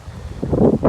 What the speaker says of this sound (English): Sorry about the wind. It's pretty windy today.